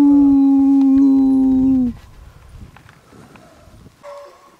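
A sled dog at a kennel lets out one long, loud, sustained howl that cuts off abruptly. Faint shuffling and scattered small noises follow.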